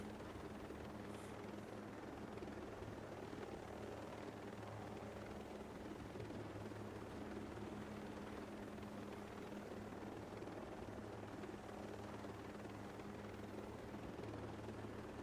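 A helicopter's rotor in Tom Clancy's Ghost Recon Breakpoint thrums steadily and continuously throughout, a dense, even drone at moderate loudness with no pauses.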